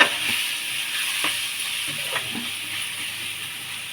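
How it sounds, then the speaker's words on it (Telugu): Finely chopped onions sauté in a pan with a soft, steady sizzle, broken by a few faint scrapes and clicks of stirring, fairly quiet and without talk. "కొంచెం ఇలా మగ్గినండి ఉల్లిపాయలు"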